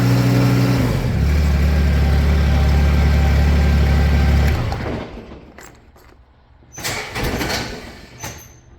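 A Kubota zero turn mower engine with a no crank/start fault, running loud and steady before cutting out, then a few sharp mechanical clunks and a brief sputtering try at restarting.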